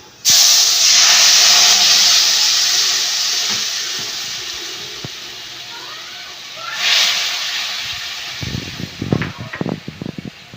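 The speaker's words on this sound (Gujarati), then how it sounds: "હવે આપણે તડકો લગાવીશું" A tadka tempering with asafoetida and sambar masala hits hot oil for masala dosa filling. A sudden loud hiss slowly fades, swells again briefly, then gives way to light clinks and taps.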